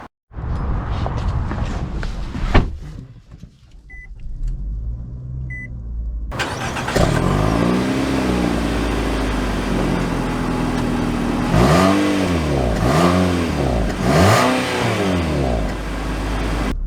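A 2022 Nissan Altima SR AWD accelerating, with a steady engine and road roar that climbs through several rising-and-falling gear sweeps, loud and close, following a brief quieter stretch with a couple of short beeps.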